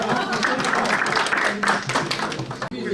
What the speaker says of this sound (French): Ça veut dire qu'il faut que vous applaudissiez